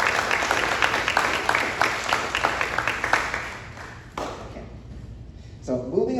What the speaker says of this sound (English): give a round of applause for all those people